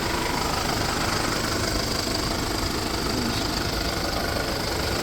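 The diesel engine of a 2019 Mercedes-Benz Sprinter van idles nearby with a steady, even rumble and no voices.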